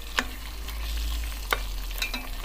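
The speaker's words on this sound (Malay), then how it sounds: "Kena sedia saya kacau sebab dia akan hangus di bawah tu, di permukaan periuk." A spoon scrapes through chicken curry (gulai ayam) cooking in a pot as the oil separates, to keep it from burning on the bottom. A few brief, faint scraping strokes sound over a low background hum.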